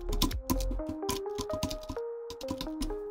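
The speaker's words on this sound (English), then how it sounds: "we're going to type our first command" Someone types a command on a computer keyboard, a quick run of close, clattering keystrokes over a steady tonal background.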